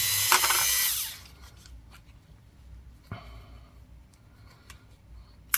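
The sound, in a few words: Dremel rotary tool cleaning a brass coin ring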